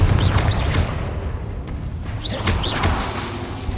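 Repeated blasting impacts from the Confringo fire spell in Hogwarts Legacy, several booming thuds and whooshing bursts over a steady rumbling game background, fairly loud and close.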